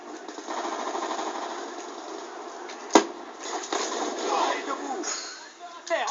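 Rapid submachine gun fire from the video game Black Ops 2 chatters in fast bursts with a sharp crack partway through, while a person talks over the shooting.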